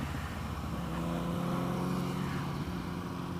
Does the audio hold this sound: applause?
no